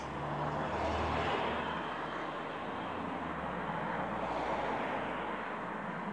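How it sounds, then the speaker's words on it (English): Steady outdoor road traffic drones as a broad, continuous low roar heard on a walk, moderately faint and unbroken, with no talking over it. "I think the traffic noise is going to be more of a problem than the wind today."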